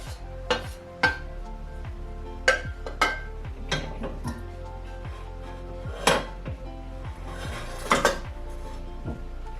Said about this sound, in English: I'm gonna go ahead and strain